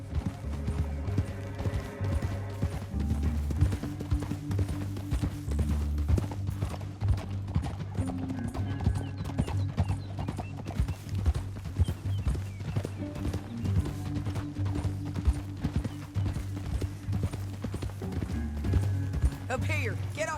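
Horses gallop with a rapid, steady clip-clop of hooves in the video game Red Dead Redemption 2, heard throughout under music and occasional speech, with a brief neigh.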